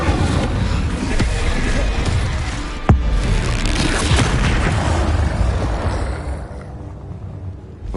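A Confringo spell explosion in Hogwarts Legacy: a dense, rumbling blast with a sharp crack near the middle, fading away toward the end, with no talk over it.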